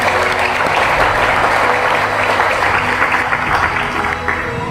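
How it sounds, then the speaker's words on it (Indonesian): Loud, continuous applause from a large gathering at a Dayak customary tradition event, a dense wash of clapping that holds steady throughout with a low hum underneath. "Tepuk tangan untuk mereka."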